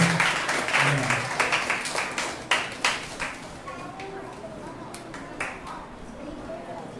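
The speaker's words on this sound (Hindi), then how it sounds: "आइए उनका स्वागत करेंगे तालियों के साथ में" A Sunday church congregation applauding to welcome a speaker, a burst of rhythmic clapping that starts loud and fades after a few seconds, with some talk and an echoing room.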